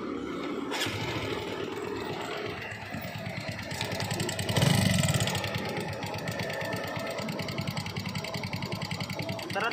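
A motorcycle engine that is seeping oil runs with a rapid, uneven ticking pulse and swells in a brief rev midway before settling back to a rough idle.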